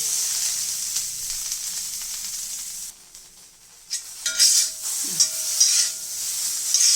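Okra (bhindi) sautéing in a pan for bhindi masala, a bright, close hissing sizzle that dips briefly, then returns with soft scraping stirs and light clinks of a utensil.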